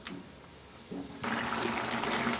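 Sambar broth with vegetable pieces bubbles in a pot, a soft watery churn that abruptly swells into a louder, steady gurgling hiss partway through, close and without talk.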